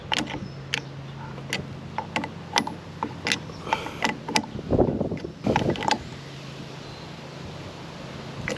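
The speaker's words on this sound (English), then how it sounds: "use a wrench to wrench it down" Wrench work tightening the mounting bolt of a Minn Kota PowerDrive trolling motor on a boat: a run of sharp metallic clicks and ratcheting ticks, close and moderately loud, with brief clunks and handling noise in between.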